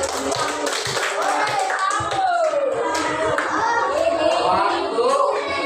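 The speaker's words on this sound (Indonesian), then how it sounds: "tepuk tangan buat Sisi" Classroom of students clapping hands together, a fairly close, steady patter of many claps, with children's voices mixed in underneath.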